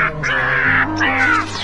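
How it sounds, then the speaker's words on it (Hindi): A cartoon crow caws loudly in a Hindi Ninja Hathori episode, letting out two long, harsh, drawn-out calls one after the other, close and prominent with no talking. "तो ये बुरा कौवा अब मुझसे बदला ले रहा है।"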